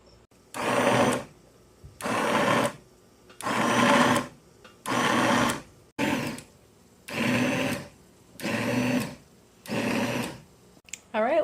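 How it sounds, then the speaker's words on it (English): A blender pulverizing tomato salsa in about eight short bursts of roughly a second each, the motor whirring up and cutting off with brief quiet gaps between. "It looks like it's time to pulverize the salsa"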